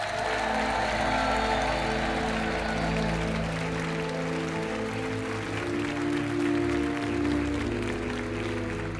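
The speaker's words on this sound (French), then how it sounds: "Vous allez partir sous les applaudissements" Studio audience applause on a French TV game show, moderate clapping sustained throughout under a loud background music bed with steady bass tones.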